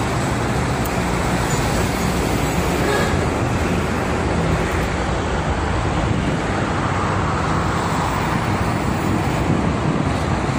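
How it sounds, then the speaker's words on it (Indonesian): Heavy traffic rolls past on the Jakarta-Cikampek toll road on a busy morning, with freight trucks and large vehicles giving a continuous loud, broadband roadway roar with no breaks. "Di sebelah kiri yang mau ke arah Jakarta banyak mobil-mobil besar ya, mobil-mobil angkutan barang."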